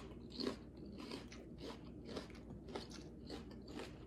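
Raw red onion and vegetables (peppers, broccoli, cucumber) being chewed close up, a run of wet crunchy bites repeating roughly every half second.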